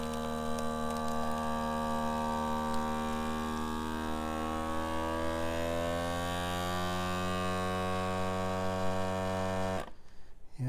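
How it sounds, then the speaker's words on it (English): A steady electric motor hum drones continuously, its tone slowly shifting as a vacuum sealer pumps air from a bag of dried pepper pods, then cutting off abruptly near the end. "Stick it in there and just let it vacuum seal that"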